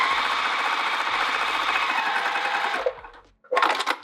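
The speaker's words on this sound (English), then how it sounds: "I'm gonna switch my machine to a size 5 stitch length, which is very huge, and go across the bottom" A sewing machine runs steadily on a long basting stitch across the bottom of a bucket tote, a loud, close, continuous mechanical whir that stops, pauses briefly and then starts again for a short burst.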